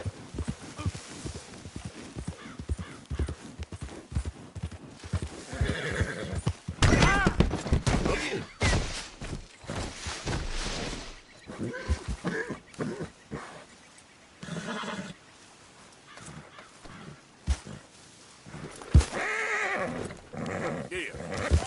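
A horse in Red Dead Redemption 2 gallops with rapid hoofbeats and gives a whinny, the hooves pounding irregularly alongside game sounds and thumps.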